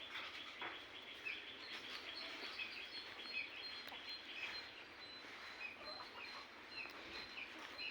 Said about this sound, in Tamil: இந்த கோழி பாருங்கள், வித்தியாசமான கோழிங்க